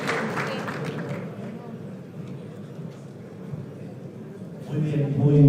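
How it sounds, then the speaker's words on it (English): Applause from the audience at an investment and business forum rises gently as the first panel members walk onstage. It is a steady, moderate patter of many hands, slightly distant, and it swells louder near the end. "Let's welcome them with a warm round of applause."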